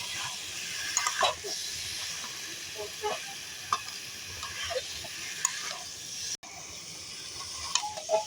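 Jackfruit cooking in a pan with sour yogurt, a steady loud sizzle and hiss with occasional stirring scrapes throughout, briefly cut off near the end before resuming.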